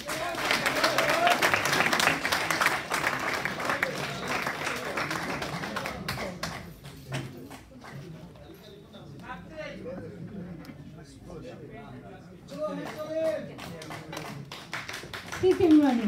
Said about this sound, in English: would you please put your hands together for our club manager